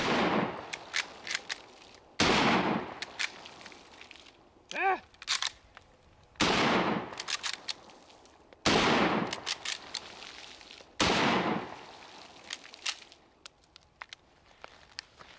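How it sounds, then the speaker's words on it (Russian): A powerful Mosin rifle fires several loud shots in a ravine, each crack followed by a long rolling echo, spaced a couple of seconds apart with a brief metallic clink between. "и при стрельбе по ней аж эхо ходит. Винтовка очень мощная"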